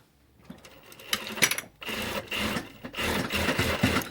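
Sewing machine stitching the hem of shortened Adidas tracksuit trousers, running in a few bursts of steady mechanical whirring that stop and restart, close and moderately loud, with no talking.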